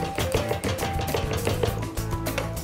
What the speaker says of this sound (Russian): Отрежу, переверну нож, раздавлю.